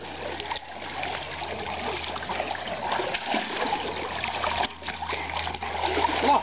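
A rottweiler dives and splashes in water, giving steady splashing and sloshing throughout at close range, with short breaks in the noise.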